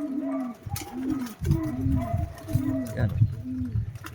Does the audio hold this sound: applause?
no